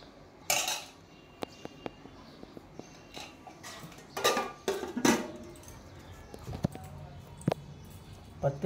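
Food is served at home from pots and dishes: scattered clinks and scrapes of metal utensils against steel plates and bowls, some sharp and close, mixed with soft background talk.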